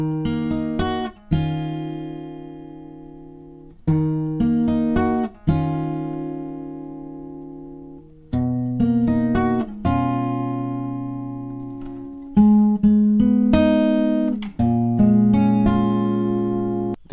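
Acoustic guitar fingerpicks a simplified arrangement of a song, with plucked notes and ringing arpeggiated chords, clear and close, played alone in short repeating phrases.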